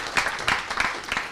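Audience at a startup product-pitch event gives a panelist a round of applause, steady moderate clapping with a few louder accents over a short stretch, no talk.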